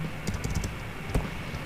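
Quick clicks of keys on a computer keyboard, a short burst of several taps close up, then a brief pause and one more press, with no talking.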